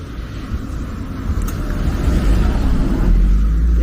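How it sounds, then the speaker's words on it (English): A car passing on a street in Bermuda, its low engine rumble swelling steadily louder as it nears, over outdoor ambience. "There goes the car."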